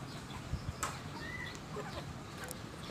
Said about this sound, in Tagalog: Ito na mga bagong palahi uli ng ating white kelso na inahin